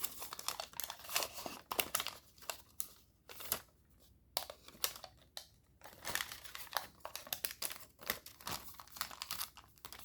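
Paper crinkles and creases in short irregular bursts as an origami jet is folded, with inside reverse folds pressed into the sheet; close, fairly quiet handling with brief pauses between folds.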